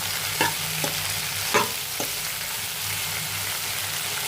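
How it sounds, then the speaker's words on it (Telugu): Okra fries in oil and is stirred in a pan. A soft, steady sizzle runs throughout, broken by a few distinct scraping stirs near the start, with no voices. "ఇప్పుడు అన్ని బెండకాయలు వేసేసుకోవాలి. వేసుకొని కలబెట్టుకొని ఆయిల్లోనే కొద్దిసేపు మగ్గాలి."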